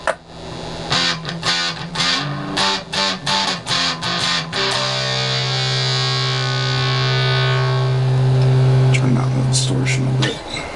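Electric guitar played through a homemade Fuzz Face fuzz pedal on a workbench: a string of choppy fuzzed plucks, then a loud sustained distorted chord ringing for several seconds, close and dense.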